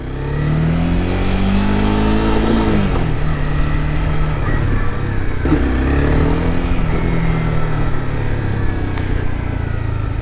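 A motorcycle engine revs steadily and loud, with pitch rising and dipping as the clutch is let out and the bike pulls away, a continuous close engine drone throughout.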